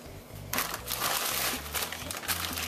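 Plastic bag of frozen mango crinkles and rustles loudly as it is handled and cut open, continuous crackling after a quiet start, fairly close.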